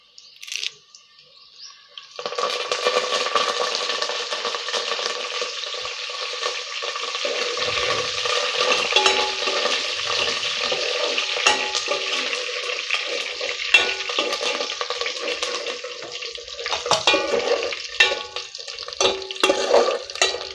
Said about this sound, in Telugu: ఈ కరివేపాకు కూడా వేగిపోయింది కదా